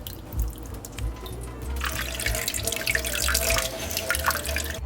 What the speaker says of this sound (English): let's just put it like that so it can drip and all the water will be gone